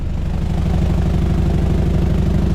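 Low, rhythmic churning drone of a new polishing and finishing machine running with parts inside, loud and close, with a steady pulsing beat like a tumbling vibratory bowl and no voices.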